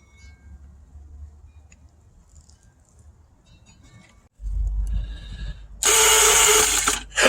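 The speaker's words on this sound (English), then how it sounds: "Gotta love an old Yamaha starter" An old Yamaha motorcycle's electric starter cranks after a quiet stretch, a sudden low whirring grind that swells into a loud, harsh burst near the end.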